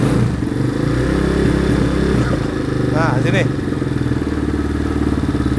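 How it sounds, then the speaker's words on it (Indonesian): A Honda CB250 trail motorcycle engine idles steadily and close by while its carburetor idle screw is adjusted, a continuous low throbbing putter under someone speaking briefly. "Kalau idolnya putaran mesinnya terlalu bawah, kita gedein."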